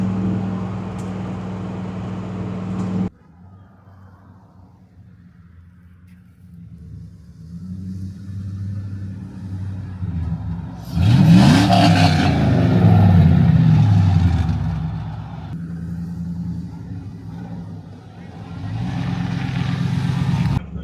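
GMC C10 pickup truck rolling into town toward a lakefront, its engine giving a steady low rumble throughout, with a louder surge of engine and road noise midway before settling back to a cruising drone.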